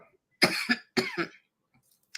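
Two short, raspy coughs close to the mic, one after the other, followed by quiet.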